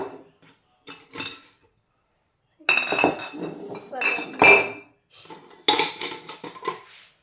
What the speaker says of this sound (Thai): ทีนี้ ก็ เอา กระเทียมใส่ขวดลงไป